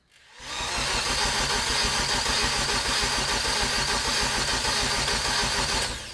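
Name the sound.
car engine starting and idling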